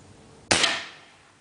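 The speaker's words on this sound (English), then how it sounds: "it's not really nice when you're shooting it in your backyard to hear for your neighbors this sound all afternoon without silencer" A single sharp crack from a BSA Scorpion T10 .22 air rifle fired in a backyard without a silencer, loud and close, with a short ringing decay.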